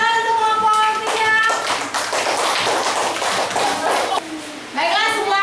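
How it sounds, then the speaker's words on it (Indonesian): A classroom group claps in a brief burst of applause lasting a few seconds, with children's and an adult's voices speaking before and after. "Tepuk tangan untuk kelompok 3."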